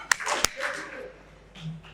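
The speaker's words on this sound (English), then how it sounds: "If you can hear me, clap twice." Two sharp claps close together from a gala audience at the start, followed by scattered murmuring voices and room noise.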